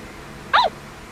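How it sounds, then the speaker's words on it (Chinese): A dog in the horror adventure game Yomawari barks once, a short sharp yelp standing out clearly over a low steady background hum. "狗狗。"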